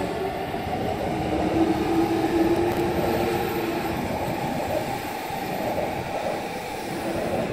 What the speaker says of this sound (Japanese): 6番線は列車通過です。